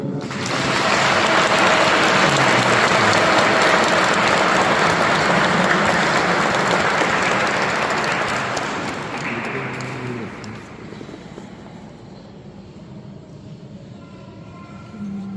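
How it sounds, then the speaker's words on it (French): A church congregation bursts into sustained applause during a confirmation celebration, loud and dense at first, then thinning and fading to a softer patter near the end. "On peut l'applaudir."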